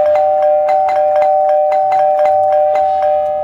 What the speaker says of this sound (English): Careful, Eddy, you're gonna break the doorbell.